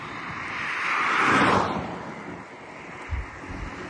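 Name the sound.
wind blowing outdoors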